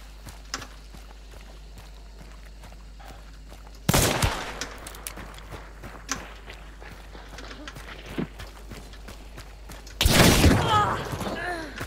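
Gunfire in the online shooter Hunt Showdown: two loud, close bursts of shots, one at about four seconds and another near ten seconds, standing out over quieter background game sounds and footsteps.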